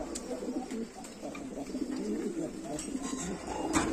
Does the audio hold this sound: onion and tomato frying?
no